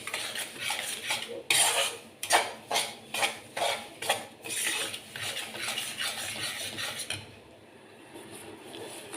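Semolina is roasted for rava barfi, with a metal spatula scraping and tapping against the pan in a steady rhythm of repeated strokes, loud and close, before the scraping fades into quieter stirring.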